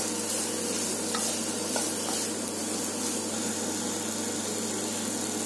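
A mushroom pepper fry with coriander leaves, cooked restaurant style, is stirred in a pan, giving a steady, even wash of sizzle and scraping that runs unbroken throughout with a low hum beneath.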